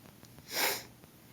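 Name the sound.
sniffles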